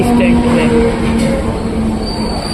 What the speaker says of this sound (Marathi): हार्बर लाईन से वाशी जाने वाली 12 डिब्बों की ही लोकल है